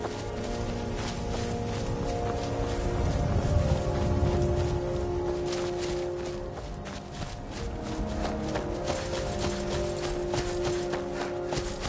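Horse hooves clip-clop in a steady, rhythmic gait in the video game The Elder Scrolls V: Skyrim, layered over ambient game sounds and a low rumble.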